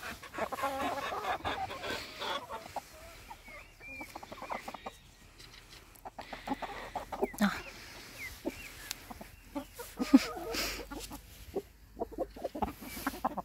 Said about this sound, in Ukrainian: Загалом курочки дуже розкішні.